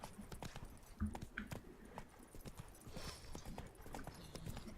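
Horse hooves clip-clop at a steady trotting rhythm in the video game The Witcher 3: Wild Hunt, quiet and continuous with a soft background ambience.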